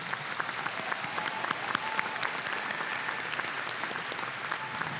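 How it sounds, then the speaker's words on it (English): Sustained applause from a commencement ceremony crowd greeting distinguished guests, a dense steady wash of many hands clapping throughout without a break. "Please give our distinguished guests a round of applause."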